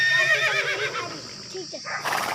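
A horse neighs in a rural comedy scene, a high wavering whinny over continuous talk, followed by a short burst of noise near the end.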